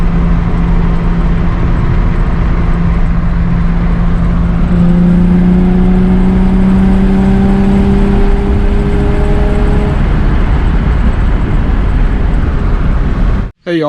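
Nissan 350Z stuck in limp mode accelerating at full throttle, its engine droning loudly and steadily as the revs climb slowly and level off low, with a single shift-like drop near the end.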